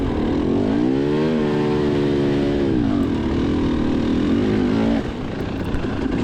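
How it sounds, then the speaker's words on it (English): Dirt bike engine revving and bogging steadily while climbing a hill at a Vet C row race at The Holler in Clay City, Kentucky, a loud close rising and falling drone for several seconds before easing off near the end. "I'm definitely just kind of waddling the bike up the hill right now"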